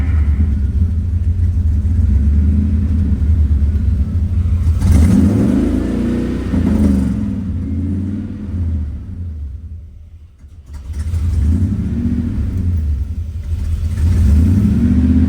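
A Road Runner's engine, recently converted to EFI with its idle air control still unadjusted, rumbles loud and close as it revs up and settles back, dipping almost to stalling before picking up again.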